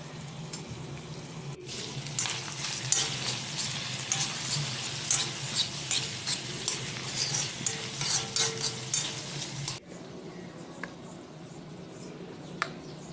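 Pork sizzles and fries in oil with onion, garlic and ginger paste, stirred by a utensil in repeated scraping strokes over a steady crackle, close and fairly quiet, no talking.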